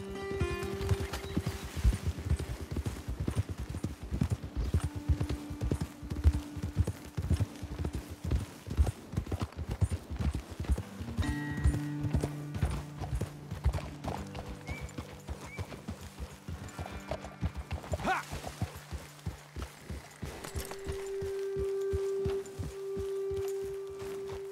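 Horses' hooves clip-clop at a walk in the video game Red Dead Redemption 2, a steady rhythmic plodding over quiet ambient music, with no speech over it.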